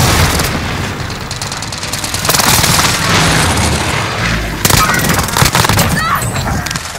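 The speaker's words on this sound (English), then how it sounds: "Stun grenade out!" A stun grenade detonates during Call of Duty Warzone gameplay on Rebirth Island, with loud booming blasts amid dense, continuous gunfire and crackling bursts, all close and heavy throughout.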